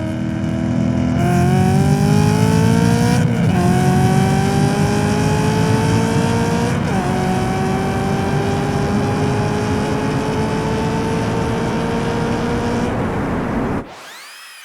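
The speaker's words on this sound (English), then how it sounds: "holding steady around 50 miles per hour in second gear before unleashing the Mustang" An intercooled Ford Mustang accelerates hard from about 50 mph in second gear, its engine note climbing steadily in pitch through the run with two brief dips, loud and close throughout, cutting off abruptly near the end.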